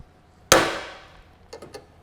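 A single sharp metallic snap rings out as a rivet is set on a Fox Body Mustang strutless rear wing, followed moments later by a few faint light clicks.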